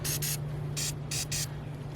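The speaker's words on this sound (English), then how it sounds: "So, we'll just spray it on there." Bug and tar remover sprayed onto a car bumper from a trigger bottle: five close, crisp hissing bursts in two quick pairs and a final spritz, over a low steady hum.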